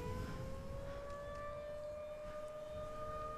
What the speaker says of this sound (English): I hate these sirens. They're really freaking me out.